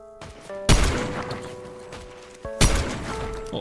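Two sharp, loud gunshot-like blasts ring out about two seconds apart in the video game Fortnite, each followed by a ringing decay over a mechanical game background.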